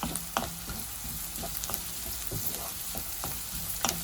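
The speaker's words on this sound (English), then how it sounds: "Keep stirring the mix" Chicken mix fries in a pan with a constant soft sizzle, punctuated by scattered scraping clinks of stirring spread through the few seconds, quiet and close with no talk.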